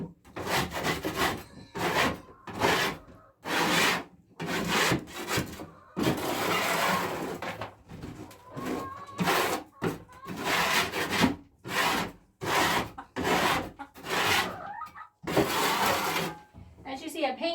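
A paint scraper is dragged in repeated close, rasping strokes, each burst separated by brief pauses, in a steady back-and-forth rhythm.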